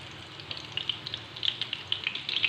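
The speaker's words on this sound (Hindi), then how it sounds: "चलें फ्राई करते हैं टिक्कियाँ।" Shami kabab patties fry in a pan over medium-low flame, a steady soft sizzle with small crackling pops scattered throughout, no voices.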